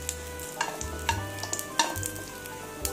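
Bread slices fry in ghee in a pan, a soft sizzle punctuated by several brief scraping and turning clatters as each piece is pressed and flipped, close and moderately loud with no talk.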